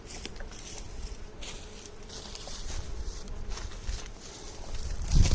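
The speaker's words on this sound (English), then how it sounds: "That's a lot of bees." Honey bees buzz steadily around an opened hive during a spring inspection, a dense, close swarm hum with light handling noises throughout.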